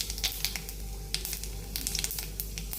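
Panch phoron spices crackling in hot oil in a wok, a steady sizzle broken by quick sharp pops and spits, close and fairly quiet, with no talking.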